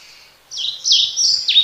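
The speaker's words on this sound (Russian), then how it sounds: "если вы «крути-крути» услышите, значит, это, скорее всего, мухоловка" Female flycatcher song repeating a short two-part 'kruti-kruti' phrase, bright high chirping notes in quick succession, clear and close with no other sounds around it.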